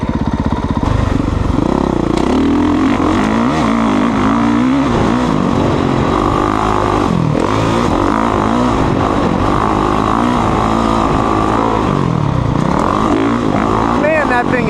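Honda CRF450R dirt bike ridden around a track in third gear, its engine loud and close throughout, revs rising and falling through corners, with a voice talking over it.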